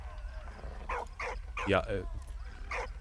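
Dog barking in the World War I video game Valiant Hearts, a few short yips and barks at moderate distance, mixed with brief whimpers and someone speaking quietly.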